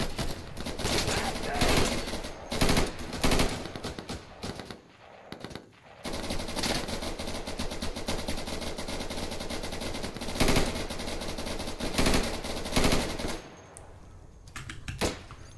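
Gunfire in the video game Insurgency: dense bursts of automatic fire and single shots crackle loudly and repeatedly, with short pauses between volleys.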